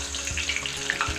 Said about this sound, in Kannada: ಕಾದಿರೋಂಥ ಎಣ್ಣೆಗೆ ಕರಿಬೇವಿನ ಸೊಪ್ಪು